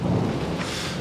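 A deep, loud rumble of thunder at night rolls continuously with rain hissing steadily underneath, close and heavy throughout the short moment.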